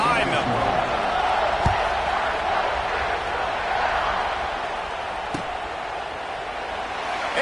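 Stadium crowd roars in a steady, dense wash at an Illinois versus Ohio college football kickoff, a sustained loud din with a couple of sharp thuds cutting through.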